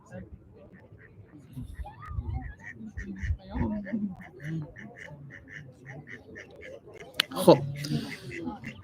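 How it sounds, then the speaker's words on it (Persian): An injured duck with a bleeding leg quacks in a quick repeated series, with someone speaking over it. "یه اردکی اینجاست"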